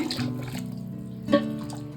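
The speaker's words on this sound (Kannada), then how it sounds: "ನಾನು ನಾಲ್ಕು ಲೋಟ ನೀರು ಹಾಕೊಳ್ತಾ ಇದ್ದೀನಿ" Water poured from a glass into a cooker for chicken biryani rice, a close, steady gurgling stream with a brief splash partway through.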